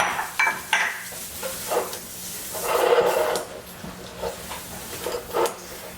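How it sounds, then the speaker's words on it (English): Caramel sauce being stirred in a pot as it thickens for a chocolate caramel poke cake, with soft scraping strokes over a faint bubbling sizzle at moderate volume and a few pot clinks. "we're going to stir this until it thickens up"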